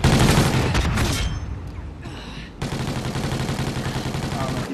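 Rapid automatic gunfire crackles through a Call of Duty public match, dense bursts loud and close at the start, a short lull, then steady repeated shots resuming under a voice.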